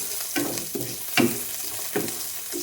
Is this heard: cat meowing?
no